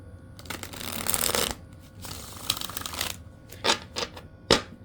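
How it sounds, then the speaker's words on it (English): Oracle cards riffle and shuffle in two long bursts, then a few quick sharp taps and flicks, close up with no talking. "do a few shuffles here"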